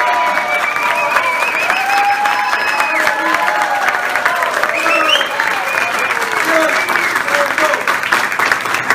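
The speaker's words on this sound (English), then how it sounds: "Can I hear the crowd?" A rally crowd applauds and cheers steadily for the whole stretch, a dense wash of clapping with whistles and shouting voices rising through it, loud and continuous.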